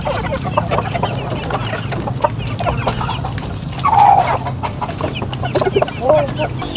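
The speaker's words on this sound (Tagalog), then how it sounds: "ganyan po katakaw, kabilis, kalakas kumain po yung ating mga alagang manok" Large pet chickens cluck and squawk steadily while feeding, close by and fairly loud, with a brief louder burst of calls midway, against a low background hum.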